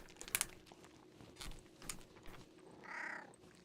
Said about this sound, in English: You tried to meow.